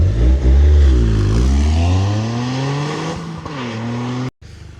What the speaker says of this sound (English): intake sound and a lot more blow-off valve.